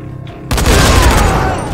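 A loud explosion in the zombie game Dying Light bursts in after a quiet moment, a sudden broadband boom followed by crackling, rumbling debris that sustains for over a second.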